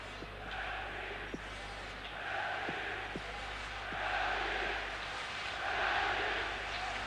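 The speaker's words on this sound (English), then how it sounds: "The Belgian crowd supporting their favourites now. Building up a chant behind the Belgian goal." Belgian football supporters in a stadium crowd build up a chant behind the goal during a Belgium v Scotland match, a steady distant roar of massed voices swelling in waves across the clip.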